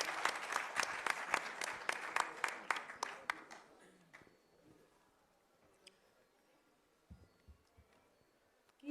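Audience clapping at an international Punjabi conference, a loud burst of applause that fades out after about four seconds, leaving a quiet room with a few scattered sounds.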